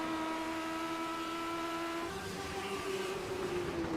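Race cars roar around a short track, a steady loud engine drone from several cars with a whining pitch that bends as they pass, heard at a distance with no talk.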